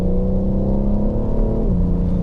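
A BMW M760i V12 engine in sport mode hums at a steady, loud drone with strong low-end rumble and intake noise, easing slightly in pitch near the end.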